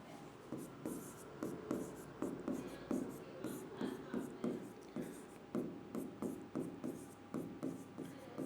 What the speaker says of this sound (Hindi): दोनों लिख देती हूं।